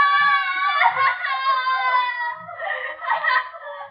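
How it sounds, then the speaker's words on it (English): A woman's anguished scream and wail in the night, from a 1949 radio drama: drawn-out, quavering cries that rise and fall over four seconds, loud and close, with short breaks between sobbing bursts. "they scream because they remember things."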